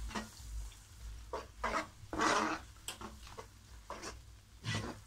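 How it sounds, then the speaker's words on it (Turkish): Scraping and stirring of semolina halva in a pot with the heat off, with irregular bursts of gritty scraping and a soft background hiss, close by. "Şimdi ocağımın altını kapatıyorum ve şöyle bir karıştırıyorum."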